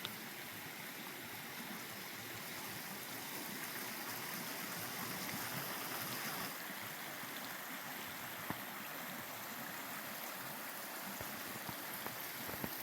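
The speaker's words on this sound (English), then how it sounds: "And the creek right behind us." A creek flows steadily behind a snowy campsite, a soft, continuous rush and gurgle of water heard alone at low volume.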